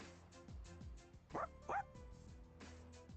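A dog barks twice in quick succession within a video game, two short sharp yaps standing out over a soft musical backdrop with low tones.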